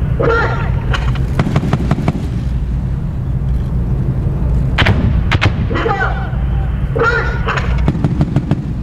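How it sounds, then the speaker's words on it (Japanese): Military live-fire shooting at the Fuji Firepower Review exercise, with vehicle weapons firing loud, sharp bursts and single reports that echo across open ground, over a steady rumbling background. "それでは射撃をご覧いただきます。"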